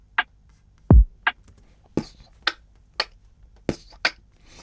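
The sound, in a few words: kick and snare drum pattern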